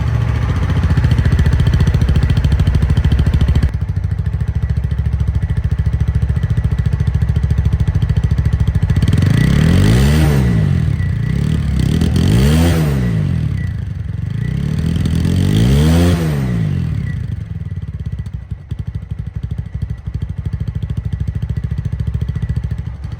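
A second-hand ABS 4V motorcycle in showroom condition idles close by, its engine revved in three quick swelling bursts that rise and fall before settling back to a steady idle.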